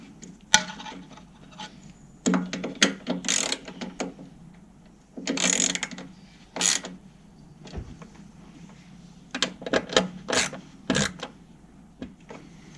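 Ratcheting clicks from a tool tightening screws on the plastic headlight housing of a VW Transporter T4, coming in close, loud bursts of rapid clicks separated by short pauses.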